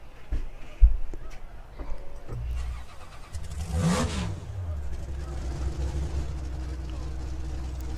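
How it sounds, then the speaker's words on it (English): In the rFactor 2 racing simulator, a car engine idles, then revs up in a rising, loud swell that falls back to a steady hum, with a few soft knocks before it. "when I rev the engine"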